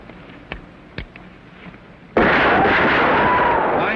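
A loud close gunshot-like blast crashes in after two faint pops during Western target practice, followed by a sustained roaring rumble that fills the rest of the moment.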